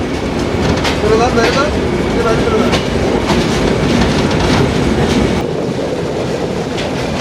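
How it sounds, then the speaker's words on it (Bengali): The Benapole Express runs at high speed, its wheels clattering in a steady, dense rhythm over the rails, loud and close from inside the carriage, with a rushing roar throughout. "আবার বেনাপোল এক্সপ্রেস ছুটে চলছে দুরান্ত গতিতে"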